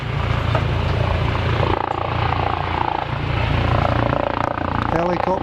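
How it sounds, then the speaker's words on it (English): A helicopter approaching a serious accident scene near a swing bridge, a continuous low rotor drone running under a voice and some background noise, fairly loud and steady. "Looks like there may be a helicopter coming in as well."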